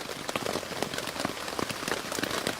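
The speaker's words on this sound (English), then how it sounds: "I'm going to have a good read of that very, very soon whilst listening to this rain." Steady, close rain patters densely on a surface at a campsite, a continuous, even hiss of drops with no voices.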